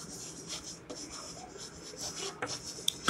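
A pen scratches across paper in short, soft, close strokes during math notes, ending with a couple of sharper taps.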